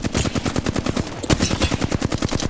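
Sustained automatic gunfire in the shooter game Apex Legends, a rapid, even stream of roughly eight shots per second, loud and close, running continuously with no voices.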